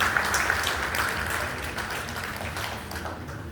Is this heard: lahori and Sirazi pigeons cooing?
no